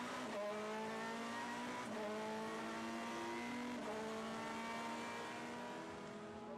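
Audi and Ferrari supercars racing at Zolder, engines howling continuously at a distance with rising revs and gear changes, fairly faint and steady throughout.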